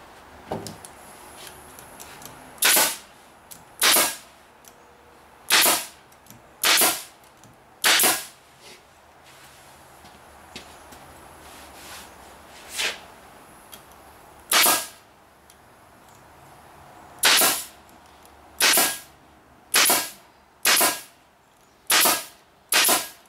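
A staple gun fires a series of loud, sharp snaps, about a dozen shots spaced unevenly while building a covering, each crack standing alone over quiet outdoor background.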